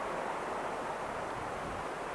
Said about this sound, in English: Have the bike and the tent back away from the river because it does make a lot of noise.